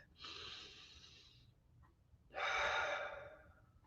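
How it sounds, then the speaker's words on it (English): Two slow, deep breaths, each a long airy inhale or exhale heard close and alone in a quiet room, separated by a short pause. "let's just take a breath"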